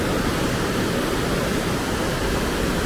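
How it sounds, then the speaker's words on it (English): The Isar river in Munich runs high and fast at flood level, a dense, constant roar of rushing water, loud and close with no voices. "So much water. This river has a lot of force, a lot of power in these days."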